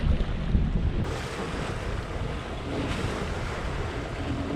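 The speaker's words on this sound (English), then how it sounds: "This has just been 5 more knots of wind than it was yesterday. Look at the difference in the conditions." Steady wind roars across the microphone and waves wash against the hull of a Hallberg Rassy 54 sailboat under sail in breezy Exuma, Bahamas conditions, loud and continuous throughout.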